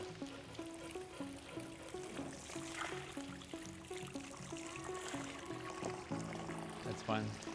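Water trickles steadily from a newly filled garden pond waterfall, its pump running, in a soft continuous babble that stays faint and close throughout with no talking.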